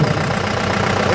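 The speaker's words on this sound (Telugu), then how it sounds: "అలంకరించబడిన వాహనం బయలుదేరింది" Engine of a decorated vehicle idling as it sets off in a 76th Republic Day parade, a steady, fairly loud low rumble with a slight knocking pulse, continuous for a brief moment.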